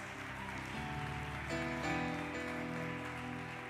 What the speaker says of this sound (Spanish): Dale más fuerte ese aplauso a Jesús